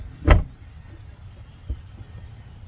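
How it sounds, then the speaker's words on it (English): An RV entry door fitted with a Latch It lock swings shut with one sharp, close thud, followed by a faint latching click a moment later against quiet background hum. "We don't have anything binding up before we try and go and close the door here"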